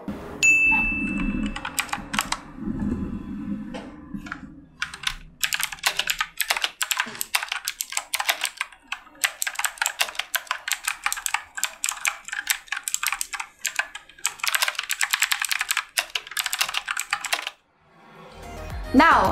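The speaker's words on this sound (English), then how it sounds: "Yung pinili niya is yung blue switch, meaning nun is tactile and clicky. Yung tipong takatakatak ganun." Clicky blue-switch typing on a Havit KB473L mechanical keyboard: dense, rapid bursts of sharp tactile clacks running steadily for most of the clip, close and loud, with a brief low rumble and a ringing ding at the start.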